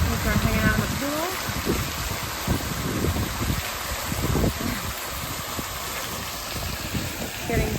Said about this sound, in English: Rain starting.